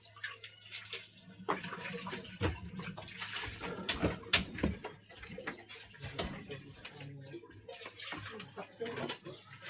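Running water from a household tap, a splashing, uneven flow with clinks, while people talk over it.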